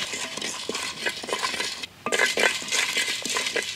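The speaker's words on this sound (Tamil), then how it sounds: "பட்டை, கிராம்பு, மிளகு, சீரகங்க, சோம்பு, இது எல்லாம் சேர்த்து நல்லா மணம் வர வரைக்கும் வறுத்தெடுத்துக்கலாம்." Whole spices (cinnamon, cloves, pepper, cumin and fennel) dry-roasting in a pan, with a utensil scraping and clinking against the metal in quick, irregular strokes and a brief pause midway, close and without voices.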